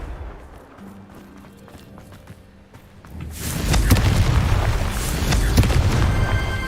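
Confringo explosive spell blasting in Hogwarts Legacy, a quiet stretch of low rumbles giving way after three seconds to a loud, sustained crackling burst of fiery debris and booming impacts.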